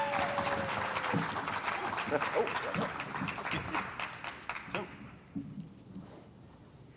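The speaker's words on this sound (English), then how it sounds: "please give her some applause" Audience applause for a guest at an interview event, a dense steady clapping that carries for several seconds and then fades away, with a brief spoken word from the stage over it.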